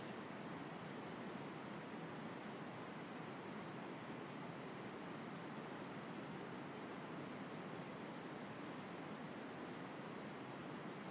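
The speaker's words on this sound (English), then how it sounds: "return your focus back to the sound of the water" River water rushing and splashing over rocks at Belle Isle, a steady, even, broadband wash that stays constant and fairly faint throughout, with no voices.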